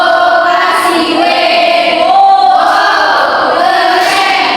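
Primary school class doing a 'tepuk wow' chant, many children's voices calling out together in a loud, continuous group chant with little distinct clapping.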